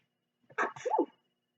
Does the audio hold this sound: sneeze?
yes